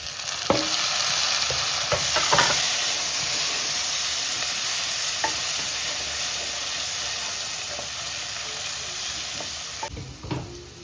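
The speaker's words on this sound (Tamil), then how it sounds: "இந்த டைமில் நம்ம வந்து தக்காளி போட்டுக்கலாம்." Tomatoes drop into frying masala for mutton biryani, and the pan sizzles loudly and steadily with a few sharp clatters of stirring near the start and end. It is close and continuous, with no speech.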